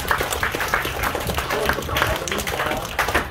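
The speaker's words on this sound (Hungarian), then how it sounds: "a lányoknak külön egy nagy tapsot kérek szépen" Audience applause at a youth football festival, steady dense clapping for the girls' teams, continuous and fairly close, with faint voices mixed in.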